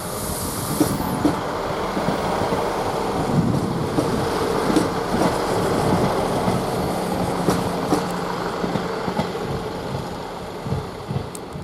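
Class 158 diesel multiple unit 158774 at Grantham railway station, a steady rolling rumble with faint clatter of wheels over rail joints, fairly close and continuous throughout with wind buffeting the microphone.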